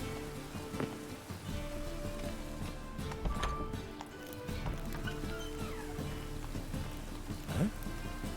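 Horse hooves clip-clop in The Witcher 3, a quiet, irregular patter of hoofbeats over soft rain-like background ambience, faint and somewhat distant, with occasional game effects.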